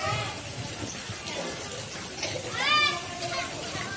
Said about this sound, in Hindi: ये भी पानी खेल खेल के नहा रही है।